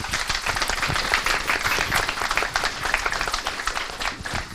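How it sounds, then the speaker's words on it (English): A conference audience claps for its experts in a dense, sustained round of applause that stays at a steady level throughout. "Big applause for our experts."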